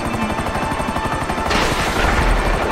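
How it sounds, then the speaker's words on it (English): A helicopter in GTA V Online thumps with a rapid, pulsing rotor beat, then gunfire erupts and thickens the noise halfway through; it is loud, close and has no talk over it. "There's a helicopter under us."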